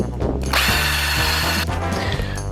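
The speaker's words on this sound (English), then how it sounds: "Drill a sinker for the nut." Power drill boring a countersink into oak plywood, with a steady loud motor whine and the bit grinding through the wood. The pitch shifts as the drill loads and eases near the end.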